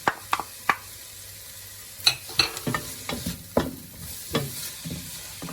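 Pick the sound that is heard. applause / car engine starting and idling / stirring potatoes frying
stirring potatoes frying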